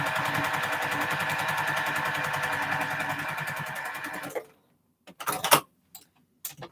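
A sewing machine stitching rows of 25-patch quilt blocks runs in a fast, even mechanical patter for about four seconds, then stops, followed by a few short clicks and taps from handling.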